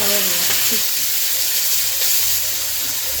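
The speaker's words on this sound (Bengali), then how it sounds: "এই যে তেল গরম করছি, ওই তেলের মধ্যে দিয়ে দিতে" Onion, chili and garlic frying in hot oil give a steady, loud sizzle and hiss that holds evenly throughout, with a brief voice in the background near the start.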